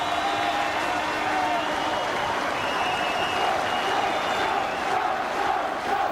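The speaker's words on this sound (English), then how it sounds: "And there is the biggest cheer of the night." Rugby league crowd at a Workington Town versus Halifax match roars and cheers at the final siren, a loud, sustained wash of cheering and clapping with shouts throughout.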